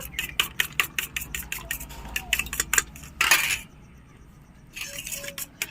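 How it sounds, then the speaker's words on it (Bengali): Two eggs are beaten in a bowl, producing quick, rhythmic clinks of utensil against the bowl, then a short pause before the clinking resumes more faintly. "তো আমি দুটো ডিম ফেটিয়ে নেব"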